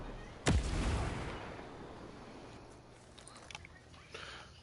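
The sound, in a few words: frag grenade explosions in a video game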